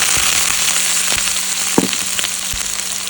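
Dried chilies sizzle steadily in hot oil, a dense continuous frying hiss with scattered small pops and crackles, close and loud, with no talking.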